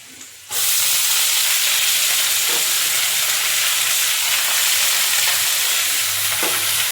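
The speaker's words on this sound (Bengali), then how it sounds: "এখন আমি শাকটা দিয়ে দেবো রসুন আর কাঁচা লঙ্কা ভাজা হয়ে গেছে" Red amaranth greens drop into a pan of fried garlic and green chilli, setting off a sudden loud sizzle that holds steady and close for the rest of the clip, with no talking.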